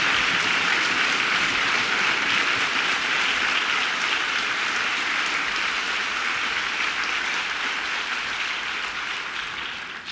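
An audience at a university graduation ceremony in Bonn applauds steadily for the graduates, a dense, sustained clapping that fills the hall and fades slightly toward the end.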